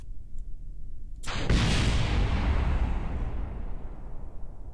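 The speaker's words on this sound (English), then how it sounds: "And look, you got your explosion too." Rocket explosion in the video game Kerbal Space Program: a sudden loud blast that swells into a long, roaring rumble and slowly decays, with no voices over it.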